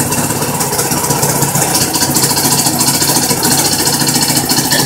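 A homemade generator's engine idles steadily and loudly up close, a continuous drone with a faint rhythmic pulse and no talking.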